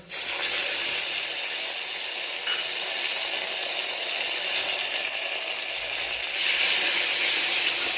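Tomatoes tipped into a hot pan with garlic for soybean chunk khichdi, giving a loud, steady hiss of sizzling steam that holds for several seconds without speech.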